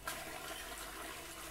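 Toilet flush in the game Dropsy, a faint, brief rushing gurgle of water that runs steadily from start to end with no one speaking.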